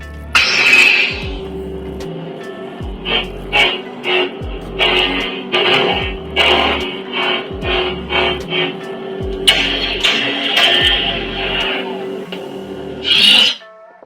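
A Saberbay Chosen Victor lightsaber running a JSJ Hyperphonic sound font ignites with a sharp burst, hums steadily, and swings through a series of rhythmic whooshing passes before a final retraction, loud and close.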